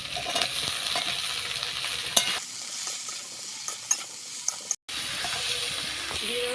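Eggplant frying in mustard oil with five-spice, chopped onion and green chili gives a steady, close sizzle with scattered stirring clinks, a brief dropout near the middle, then continued frying.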